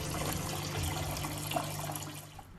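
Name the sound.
automotive parts washer pump circulating water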